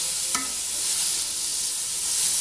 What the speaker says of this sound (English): The meat's almost done.